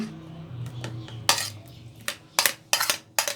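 A spoon clinks against a bowl while cream and tutti frutti are stirred together for eggless ice cream, several sharp metallic taps and scrapes at close range, with no talk.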